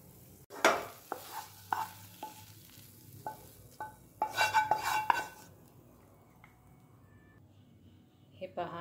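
Hot khoa scraped from a pan into a steel dish, with sharp metallic scrapes and clinks in irregular bursts over a faint background sizzle, fairly close.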